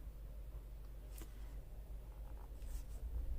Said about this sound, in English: I'm going to just start drawing some crosses.